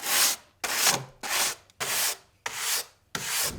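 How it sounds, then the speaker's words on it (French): A metal wire brush scrubbed in six separate strokes across wood filler to carve grain-like grooves, each pass a close, loud, raspy rub with brief pauses between. "Là maintenant, je mets un coup de brosse métallique."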